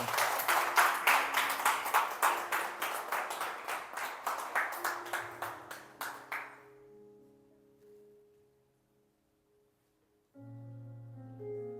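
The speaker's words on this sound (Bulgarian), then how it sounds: "Ръкопляскайте за Бога нещо." A church congregation claps together in a steady, even rhythm, loud and close, for about six seconds before stopping abruptly; soft organ or keyboard tones linger afterward, followed by a louder sustained chord.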